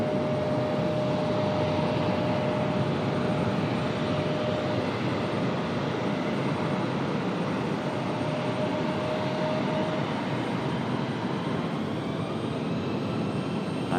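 An ATR turboprop airliner, a 32-year-old aircraft, arriving at Raleigh-Durham airport, with a steady, loud broadband propeller and engine roar and a sustained tonal whine that holds throughout.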